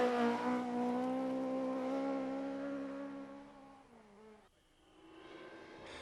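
A Ford Escort RS rally car in a rally championship stage, its engine holding a loud steady drone with strong harmonics that sags and drops away near the end before picking up again, no voices.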